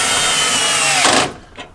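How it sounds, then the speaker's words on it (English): Power drill with a 3/4-inch socket driving the manual jacks of an RV: a loud, steady whirring drone for about a second, then it cuts off, followed by a brief fainter burst. "But up and down with a drill pretty easily."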